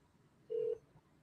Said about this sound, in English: I'm going to call them 3 times.